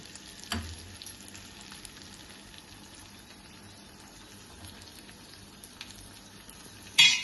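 Dried anchovies coated in gram flour and rice flour frying in a pan: a soft, steady sizzle running throughout, with a couple of brief clatters from stirring, close and quiet, with no talk.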